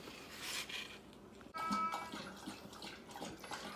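Water poured from a container into a worm compost bin holding paper scraps, egg carton, pumpkin guts and coffee grounds, a close, gurgling, splashing trickle with a brief break midway.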